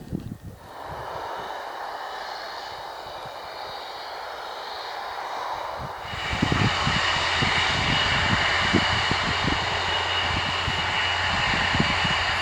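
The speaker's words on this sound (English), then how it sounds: "First couple of tornadoes have taxied out." Tornado jet aircraft taxi out at Schleswig-Jagel air base during the Air Defender 23 exercise, a steady distant turbine whine and rumble that swells louder midway as the jets draw nearer, continuous with no talk.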